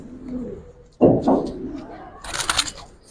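Giribaz pigeons of an old breed coo and call in a short burst, the loudest notes near the middle and a brighter rustle or flutter close by at the end.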